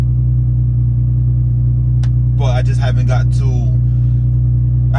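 A Nissan 350z with an RB engine and straight-piped exhaust, no resonators or mufflers, idles with a loud, steady low drone while someone talks briefly over it.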